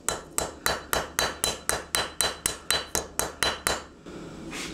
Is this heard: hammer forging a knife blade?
yes